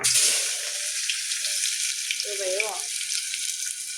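Onion frying in a pan on a home stove gives a steady, bright sizzle throughout, with a brief voice or background sound partway through.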